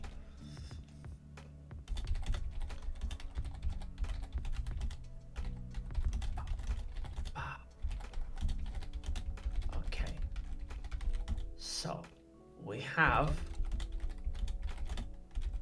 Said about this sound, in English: He is typing the thing, guys. Watch him while he types.